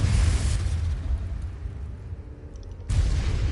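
Spell explosions from a wizard's duel in Hogwarts Legacy, with a heavy, broadband blast at the start and another near the end, separated by a softer rumbling stretch of battle noise.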